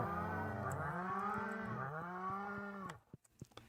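Cows in the Stardew Valley farming game give a long, overlapping, drawn-out moo that sounds clear and close, followed by a few soft clicks and taps.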